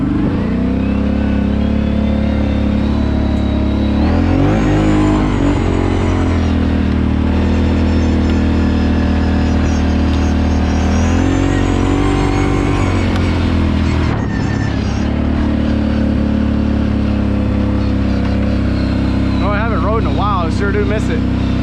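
A Kawasaki Brute Force 750 ATV with power steering runs continuously while being ridden, its engine droning loudly and rising and falling in pitch with throttle changes throughout.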